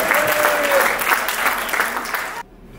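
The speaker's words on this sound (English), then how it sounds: "So please give a big round of applause." Applause fills the room at a 90th birthday dinner banquet, a crowd clapping steadily for a couple of seconds before cutting off abruptly.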